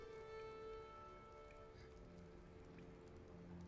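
Rain weather effect from the Witcher card game on PC: a faint, even patter of rain runs underneath soft sustained musical tones.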